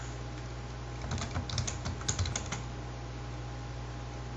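Code is typed on a computer keyboard in a quick burst of close, clicky keystrokes lasting about a second and a half, then it goes quiet.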